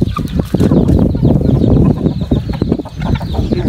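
Hens clucking busily and continuously at close range, with a few louder squawks mixed into the steady, overlapping chatter of a flock.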